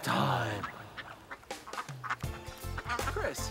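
Three ducklings quack in short, rapid bursts, close and fairly loud, with some voices mixed in among the calls.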